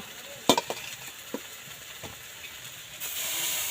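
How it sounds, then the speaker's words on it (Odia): Tomatoes frying in a pan for village-style fish curry, with a few sharp clinks and scrapes of a stirring spoon early on, then a steady sizzle rising near the end. "ବର୍ତ୍ତମାନ ଟମାଟୋ କଷା ହବ।"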